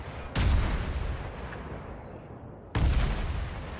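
Two heavy naval artillery salvos in the World of Warships game, each a sudden loud boom that rolls off into a long rumbling decay, the second arriving about two and a half seconds after the first.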